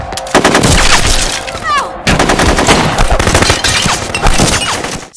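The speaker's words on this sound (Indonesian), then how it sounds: "terjadilah aksi baku tembak yang sangat epik" Gunfire in a film shootout scene: dense, rapid automatic bursts crackle almost nonstop and loud for about five seconds, with a brief break midway.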